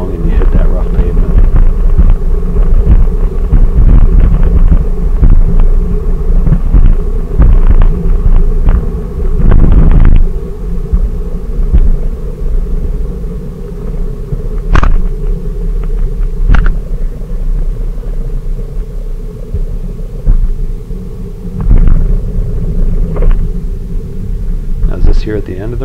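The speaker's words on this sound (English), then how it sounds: "Here we are going on a little bit more rough pavement" Bicycle rolling over rough pavement on a long charity ride, a steady rumbling roar of tires and wind buffeting the microphone, with a few sharp knocks and people talking over it.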